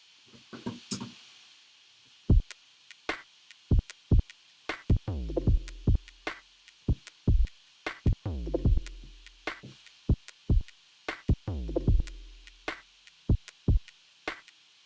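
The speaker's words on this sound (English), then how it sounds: "Simple drums sound like this." A simple drum beat sample loops in a steady rhythm, with sharp hits and deep booming kicks that ring out and repeat in a regular pattern, loud and dry, with no talk over it.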